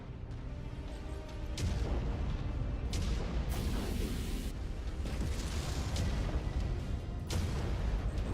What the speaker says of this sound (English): Blast off his main cannon.